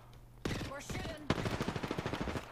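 Automatic weapon fire in Apex Legends cracks out in a fast, rhythmic burst of shots, loud and close, after an earlier short volley.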